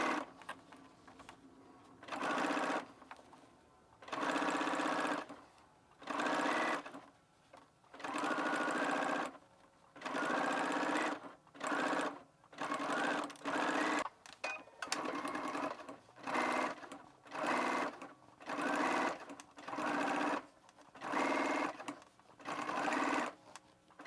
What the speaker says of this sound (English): you can go ahead and serge your raw edges